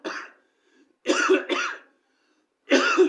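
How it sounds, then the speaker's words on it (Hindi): Four sharp coughs in short bursts, one alone, then a close pair, then another after a quiet gap, from a person during a lecture on divorce procedure for Muslim women. "सॉरी थोड़ी खांसी है"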